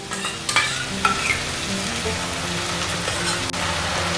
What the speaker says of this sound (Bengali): এখন আমি এর মধ্যে দিয়ে দিচ্ছি 2 চামচ টক দই।